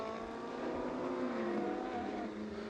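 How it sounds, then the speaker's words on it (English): Ferrari Challenge race cars pulling away on a formation lap at Jerez de la Frontera, a blended engine roar rising then easing as the pack moves off, sustained and moderately loud, no talk. "So Von Skeltermar then leads them away on their formation lap"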